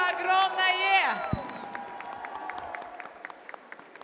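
Crowd applause at a wedding ceremony during a wedding festival, a musical tone fading into a swell of clapping and cheers that thins to scattered claps.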